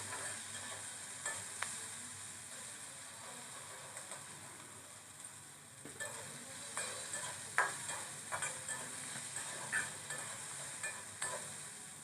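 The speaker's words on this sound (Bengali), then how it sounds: "এটা আমি দু মিনিটের মতন সবগুলো উপকরণের সাথে নেড়ে চেড়ে ভেজে নেব" Peas, potatoes and spices stir-fried in a pan with grated ginger and capsicum, a steady close sizzle under scattered scrapes and clacks of a spatula stirring, with no talk.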